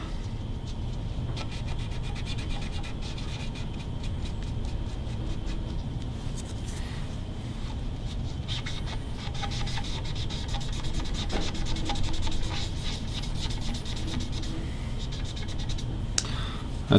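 Rag rubbing orange and black dye onto the wood of a PRS Dragon's Breath guitar during restoration, a steady close scratchy swishing that continues throughout with faint, scattered ticks and no clear pauses.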